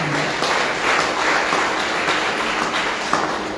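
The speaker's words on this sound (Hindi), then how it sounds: "इनके लिए भी ताली बजाइए।" Audience clapping at a Srimad Bhagavad Katha religious discourse gathering in Fiji, a dense, steady burst of applause filling the whole stretch at close range with no talk over it.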